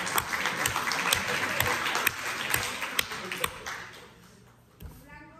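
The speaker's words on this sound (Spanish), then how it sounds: "un aplauso para ella" An audience at a parents' gathering in Mexicali claps in applause, a busy patter of claps with a few sharper hits that thins out and fades toward the end.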